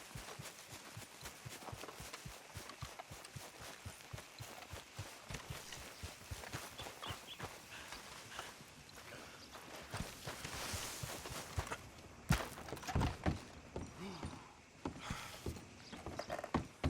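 Horse hooves clip-clop in a steady walking rhythm in Red Dead Redemption 2, near and even, with louder scuffs and heavier steps toward the end.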